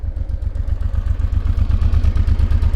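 A 1999 Honda Transalp 600V idles close by, its V-twin engine throbbing in a steady, loud, even pulse with a light mechanical clatter and no talking.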